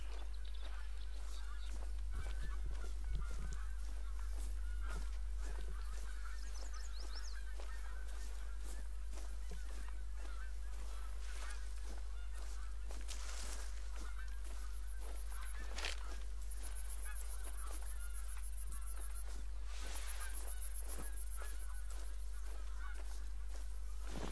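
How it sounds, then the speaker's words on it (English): Geese honk in the hunting game The Hunter: Call of the Wild, a flock calling from a distance in repeated nasal honks against a quiet outdoor ambience, a few louder bursts standing out over a low steady background rumble. "Hearing lots of geese over this way"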